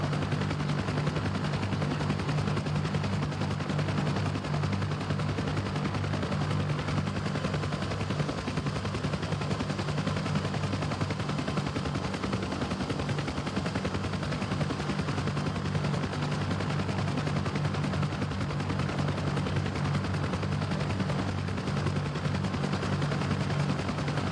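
Helicopter in the DCS flight simulator game, heavily loaded with troops, gives a continuous low rotor thrum and engine drone with dense rapid chop, loud and close throughout, with no voices.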